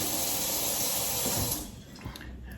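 Tap water running loudly over a piece of dropped oxtail being rinsed under a kitchen faucet, a steady splashing rush that suddenly gets quieter and thins out as the flow shifts.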